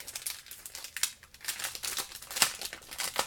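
Close, irregular crinkling and crackling of plastic wrap as a pack of Prima Zella Teal scrapbook die cuts is opened, with quick bursts of rustle and snapping and no talk.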